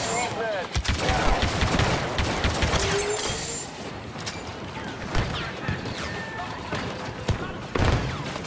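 Blaster fire crackles in Star Wars Battlefront 2, bursts of rapid sharp shots and impacts sounding near and loud amid battle noise, with voices talking over parts of it.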